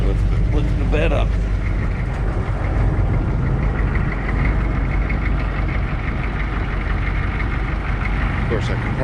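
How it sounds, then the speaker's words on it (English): A truck engine idles steadily with the power take-off engaged to raise the dump bed, a loud continuous low rumble throughout with a brief mechanical change near the start and speech-like activity over it. "engage, PTO. Lift the bed up."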